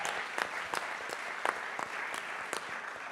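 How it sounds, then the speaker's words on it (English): Audience at a full moon ceremony applauding steadily, a dense wash of clapping with a few louder claps standing out, sustained across the whole moment with no one speaking over it. "Give yourselves another round of applause."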